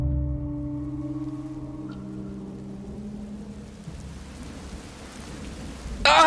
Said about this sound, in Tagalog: nang mas lumakas ang ulan